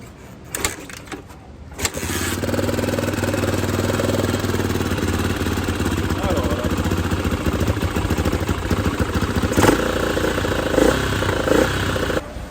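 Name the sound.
Honda XR250 1992 motorcycle engine starting and running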